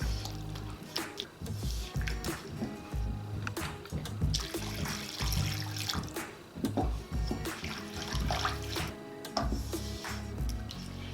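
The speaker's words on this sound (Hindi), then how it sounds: "1/2 लीटर मैंने पानी डाल दिया है" Half a litre of water is poured gradually into a ghee and yogurt mixture for halwai-style Karachi sohan halwa, a continuous splashing, sloshing flow with clattering utensil knocks close by.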